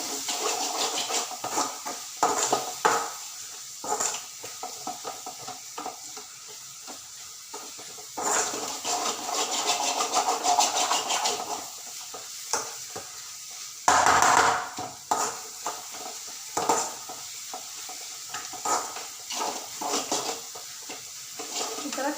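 Egg masala gravy stirred in a pan over a low flame, with repeated scraping and tapping of a spoon against the pan, soft sizzling underneath and intermittent clanks, fairly close and quiet.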